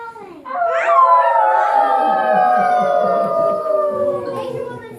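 A long, wavering howl rises and slowly falls, loud and close, sounding like a voice imitating a dog howling rather than a real animal.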